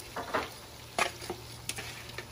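Shrimp frying in a pan, a soft crackling sizzle with scattered pops and a few utensil clicks, fairly quiet and without talk.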